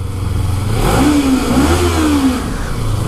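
A Kawasaki Ninja 300 motorcycle engine revs up through an exhaust with no baffle nearby, rising and falling in a loud, throaty roar over a steady rumble.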